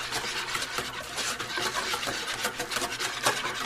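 Scraping and stirring sourdough starter together with levain in a bowl, a close, continuous rubbing and rasping sound with uneven strokes.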